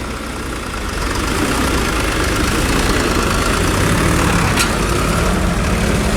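Several tractors without number plates run nearby with their engines idling, a steady low diesel rumble holding at one level after a brief swell at the start, with no talk over it.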